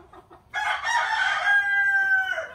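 A rooster lets out one long, drawn-out crow close by, clear and alone after a couple of faint clucks.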